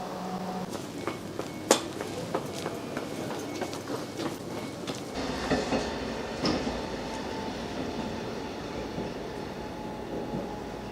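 Inside a train carriage on the first service to the new Beaulieu Park station, on the London Liverpool Street line, a steady low rumble of wheels on rails with occasional clanks and knocks, moderately loud and continuous, no talking.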